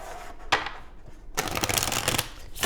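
Tarot cards are shuffled by hand: a sharp riffle, a brief lull, then a longer burst of rapid fluttering card clicks up close, ending in a final tap.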